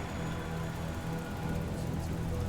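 Steady rain falls in the game Last Days of Lazarus, a dense, even wash of droplets with a low rumble beneath, continuous and unchanging.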